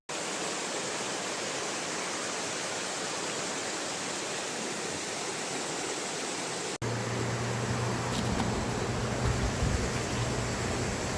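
A loud river rushes in a steady, dense roar heard from right beside it at a picnic spot. It continues unbroken, then cuts to a slightly different, equally loud stretch of flowing water.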